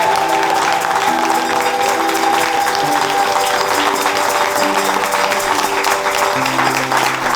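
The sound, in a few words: crowd applause at London Marathon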